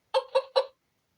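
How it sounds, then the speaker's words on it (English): A hen clucking effect from a LeapFrog talking picture book: three quick, evenly spaced clucks, loud and close, then silence. "Hen."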